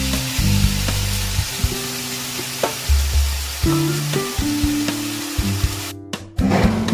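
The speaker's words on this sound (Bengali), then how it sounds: "এখন টমেটো বাটা আর পেঁয়াজ বাটা দিয়ে দিলাম" Tomato and onion paste hits hot oil in a wok already seasoned with whole garam masala, giving a steady close sizzle with scraping stir strokes and a few clunks, for a prawn malai curry; no talking.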